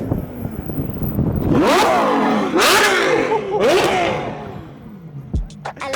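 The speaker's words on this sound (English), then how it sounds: "Give us a rev." A Ferrari 812 Superfast at a London supercar dealership blips its engine in several loud, sharp revs that rise and fall close by, ending in a short burst of pops, with voices heard faintly around it.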